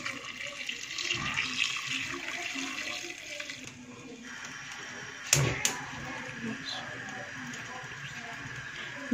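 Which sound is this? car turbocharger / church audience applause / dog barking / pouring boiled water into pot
pouring boiled water into pot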